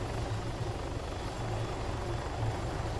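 An Empire helicopter hovers overhead in a video game, a continuous low rotor thrum that stays steady and fairly close for the whole stretch, with no talking.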